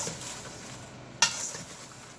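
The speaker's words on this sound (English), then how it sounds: "Now you stir it to mix all the ingredients." Homemade popcorn stirred in a bowl to mix in seasonings gives a soft, continuous rustling and pattering, with one sharp clink of utensil against the container partway through.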